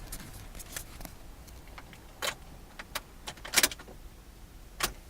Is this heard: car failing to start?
yes